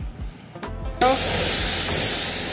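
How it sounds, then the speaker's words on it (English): A pressure washer spraying crystal wash off a ceramic-coated car kicks in abruptly after a second of quieter handling noise, then holds a loud, steady, close hiss to the end. "Just spraying off crystal wash."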